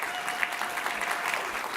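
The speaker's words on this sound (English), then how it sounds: "Please give him a round of applause" A conference audience at a food and agriculture policy summit gives a panelist a warm round of applause, a continuous, even wash of close clapping with faint voices underneath.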